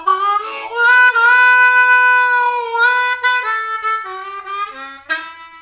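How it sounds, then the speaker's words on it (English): Blues harmonica improv lick played alone up close, a run of bending, sustained reedy notes that slide between pitches and end in short, choppy phrases. "It's a great lick to use in any of your blues harmonica solos."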